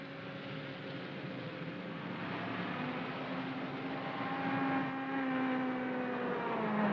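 A 1950s Jeep engine drones steadily as it drives, a continuous mid-loud motor hum with a slowly shifting pitch and no talk.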